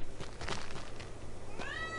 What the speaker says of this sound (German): Mann, blöde Katze, ey.